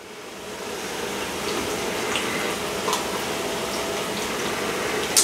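Two cans of mixed kidney and red beans are poured into an Instant Pot, making a steady wet sloshing, gushing pour lasting several seconds, with a small clunk at the end.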